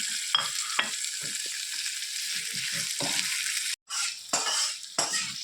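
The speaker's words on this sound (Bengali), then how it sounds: "সবজি দেবো, একটু ভেজে নিলাম। ভাজার পরে সবজি দিয়ে দিলাম।" Vegetables hiss and sizzle in a pan, with occasional clinks and scrapes of a spatula and a brief pause in the frying.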